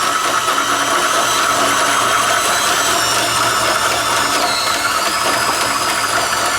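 Tube notcher cutting and notching steel tubing for a Pontiac C10 cage, giving a steady loud grinding whine with a high metallic squeal that holds throughout and shifts pitch slightly partway.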